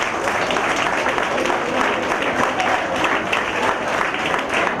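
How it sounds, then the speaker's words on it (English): A big audience applauds participants after a performance at an intra-collegiate challenge in a college lab, dense continuous clapping that stays loud and even throughout. "a big round of applause to every participant."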